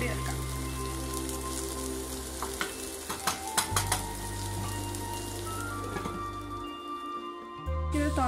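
Tomato and onion cook under a lid in a pan for egg chilli, giving a steady sizzle and bubbling with occasional pops, close and continuous, over a low hum.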